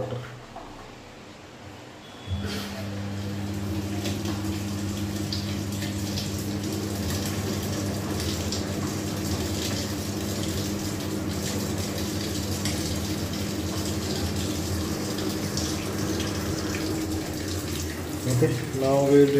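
A 2024 Samsung 10 kg top-load washing machine takes in water: quiet at first, then a steady rush of filling water with a low motor hum starts and runs on evenly, close by.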